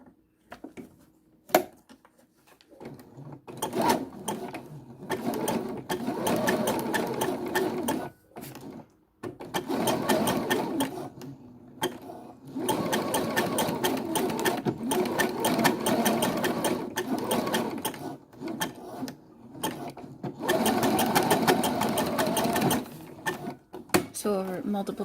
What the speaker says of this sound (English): I can sew the elastic together. I'm gonna do this with a ziggity-zag stitch.